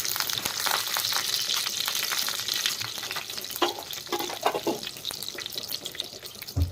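Mustard seeds, cumin and curry leaves sizzle and crackle in hot oil in a pan for shevai upma, a steady close hiss with sharp popping spatters and the occasional scrape of a stirring spoon.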